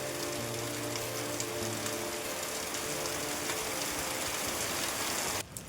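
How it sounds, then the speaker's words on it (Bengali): Heavy rain pours steadily in a dense, continuous roar close by, with a low hum underneath, ending abruptly near the close with a brief change in the wash of sound; no voices. "মনে হচ্ছে বৃষ্টি বেশিই জোর ধরছে"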